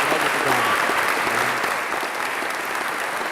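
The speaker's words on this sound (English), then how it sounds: "You can clap for him." An audience claps steadily for Ghana's president, a dense, even wash of applause that fades slightly toward the end.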